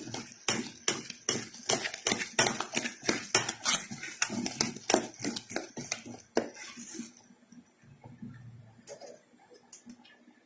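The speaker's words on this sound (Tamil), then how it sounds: "நல்லா கட்டி இல்லாம கலக்கணும்." A spoon stirring ragi cake batter in a bowl to break up lumps, fast rhythmic clinking and scraping strokes for about seven seconds, then trailing off to quiet.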